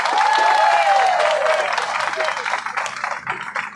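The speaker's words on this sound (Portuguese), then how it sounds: "Uma salva de palmas para Jesus" A crowd on Avenida Paulista applauds at a street demonstration, a dense burst of clapping with cheering and a whistle-like shout at first, loud and close, then thinning toward the end.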